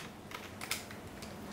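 A few faint keystrokes on a computer keyboard while entering a fastboot command to flash recovery on an HTC One X phone, soft scattered clicks against quiet room noise.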